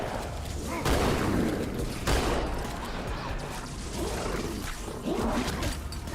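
Shotgun blasts from the video game Halo 2 boom out in a few separate bursts, about a second apart, amid busy combat noise and faint game dialogue.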